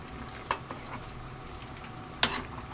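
Ginataang langka with hawot is stirred in a pot over a soft, quiet simmer, with two distinct spoon scrapes against the pot, one early and one louder near the end.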